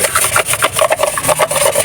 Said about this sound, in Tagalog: liliha-liha muna tayo